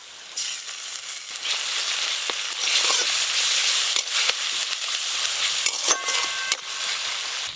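Chopped onion and ginger-garlic paste frying in hot mustard oil for potato and banana-flower chops, a dense, bright, continuous sizzle close up, with a few clinks and scrapes of stirring.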